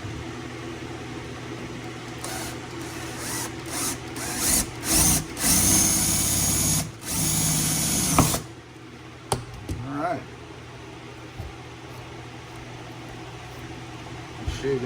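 Power drill boring into metal while mounting a larger spare tire on a Toyota Tacoma, several loud whirring bursts in the first half, then quieter clicks and handling noise.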